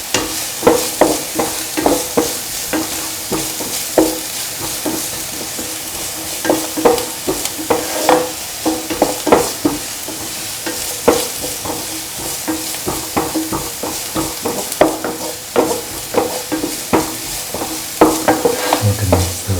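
Onions, garlic, ginger and green chilies frying in a pan for vermicelli egg pasta, with repeated close scraping stirs over a steady sizzle and no talking.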